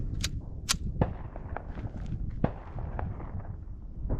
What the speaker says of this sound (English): Mag dump as fast as I can into the 8-inch steel plate.